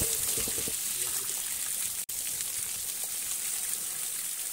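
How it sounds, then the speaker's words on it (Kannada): Water splashes and rushes steadily as an elephant is bathed at a forest department elephant camp in Harangi, Kushalnagara, a continuous wash of sound with a few faint voices early and one brief dropout midway. "ಈಗ ಆನೆನ ಸ್ನಾನ ಮಾಡಿಸ್ತಿದ್ದಾರೆ"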